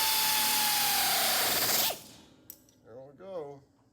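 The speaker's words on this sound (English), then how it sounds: "we'll get a nut on the back side of that and then bolt it down tight" A power tool runs as a nut is tightened onto a bolt while a turbo wing is mounted on a 3500 Duramax dually truck: a steady loud whine for about two seconds that winds down, then faint clicks and short mechanical bursts.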